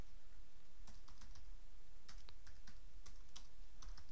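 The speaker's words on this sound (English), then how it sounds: "you just simply type in what you need" Fingers tap on a computer keyboard in an irregular series of light, quick keystrokes over a faint steady background hum.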